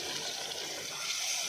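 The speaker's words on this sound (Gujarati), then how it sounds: "હવે આપણે એની અંદર થોડુંક પાણી ઉમેરી" Water poured into a cooking pot of eggplant and potato curry simmering in oil, a steady close rushing splash lasting about a second and a half with no talk.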